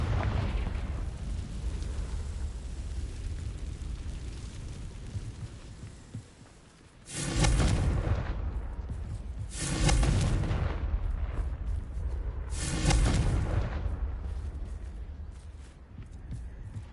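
Confringo spell explosions in the video game Hogwarts Legacy: three loud, booming blasts roughly three seconds apart, each decaying into a rumble over a steady background of game ambience.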